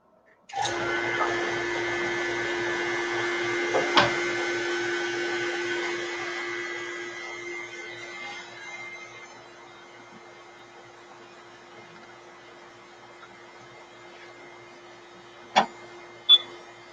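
A vacuum pump on a woodturning lathe's vacuum chuck runs with a steady, loud mechanical drone and hum, holding even for several seconds before dropping to a quieter level, with a couple of sharp clicks near the end.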